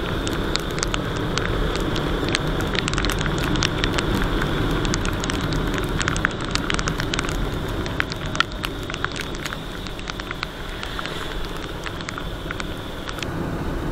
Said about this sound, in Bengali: এই বৃষ্টি যাওয়ার যে সঙ্গে এই বাইকের আওয়াজ, এই পুরো অ্যাম্বিয়েন্সটাকে একটু ফিল করার চেষ্টা করো তোমরা